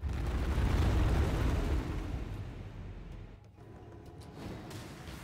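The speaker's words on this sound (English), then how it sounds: "You're gonna notice that some explosions are going on." Low rumbling explosions in the video game Path of Exile boom heavily at first, then fade into a quieter, rolling roar with faint crackles, and no voices.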